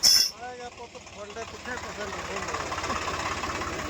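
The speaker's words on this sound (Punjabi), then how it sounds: "ਲਓ ਜੀ ਦੋ ਟਰੈਕਟਰ ਪਹਿਲਾਂ ਖੜੇ ਆ ਤੇ ਤੀਜਾ ਵੀ ਆਪਣਾ ਆ ਗਿਆ" A tractor engine idles with a low, even, throbbing pulse under people talking outdoors, holding a steady rhythm throughout.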